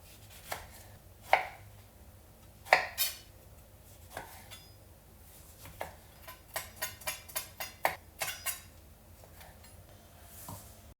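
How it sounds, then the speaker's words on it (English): A kitchen knife cuts lemon wedges on a cutting board, giving sharp, close thuds and taps. A few spaced strikes come first, then a quicker run of chops in a loose rhythm, all in a quiet room. "Now we'll just cut a couple lemon wedges."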